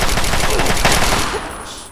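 Rapid automatic gunfire from the video game Fallout 3 rattles loud and close in a fast burst, then cuts off and fades.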